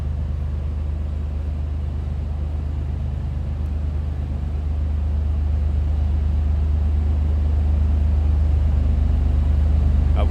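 A 1991 GMC Syclone idling from behind, its engine holding a steady deep low rumble with a strong constant hum, close and unbroken, rising slightly in loudness toward the end.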